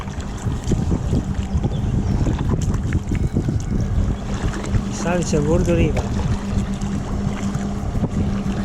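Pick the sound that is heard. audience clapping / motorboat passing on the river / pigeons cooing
motorboat passing on the river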